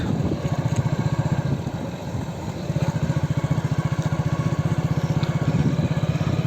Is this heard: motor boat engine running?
yes